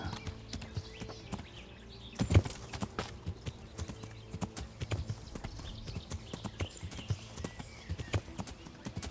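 Horse hooves clip-clop through bushes in Kingdom Come: Deliverance, an irregular run of soft thuds at moderate distance with a sharper knock partway through.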